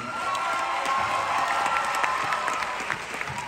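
A church camp crowd applauds and cheers for a visiting preacher, dense continuous clapping with scattered shouts filling the hall at steady loudness throughout.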